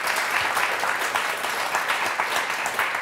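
A studio audience on a French TV game show applauds loudly and continuously, a dense wash of clapping hands filling the room with no voices over it.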